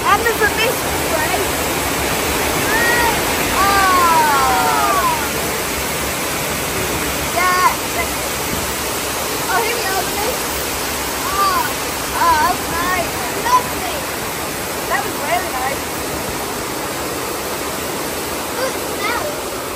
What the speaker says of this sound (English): Oh, there's a waterfall coming up.